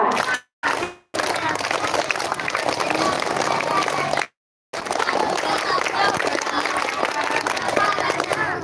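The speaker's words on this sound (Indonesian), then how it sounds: "Coba 2 kali tepuk pramuka" Group of children performing the Indonesian scout clap, tepuk pramuka, a dense burst of many hands clapping in patterned rhythm, loud and close, broken by short silent gaps, with voices mixed in.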